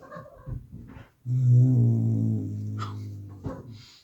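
A low, sustained dog growl rumbles close by for a couple of seconds, preceded by soft shuffling and followed by a faint whine.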